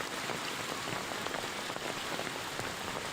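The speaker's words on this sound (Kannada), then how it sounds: "ಕಲಘಟಕಿಲಿ ಇವತ್ತು ನೋಡಿ ಹೆಂಗ್ ಮಳೆ ಅಂತ ನೋಡಿ ಇಲ್ಲಿ" Heavy rain pours down in Kalaghatagi on a road where vehicles struggle to move, making a dense, unbroken hiss with scattered close drops tapping throughout and no talking.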